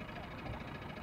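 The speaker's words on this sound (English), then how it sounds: "Engine's still running." A small fishing boat's outboard engine idles in neutral with a steady low rumble and faint knocking pulses, continuous and close throughout.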